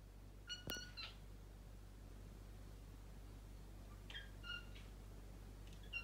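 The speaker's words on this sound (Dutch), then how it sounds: "Hij miauwt als papa weggaat" A house cat gives a few faint meows, a short cry near the start and a couple of fainter calls later, over a steady low hum in an otherwise quiet room.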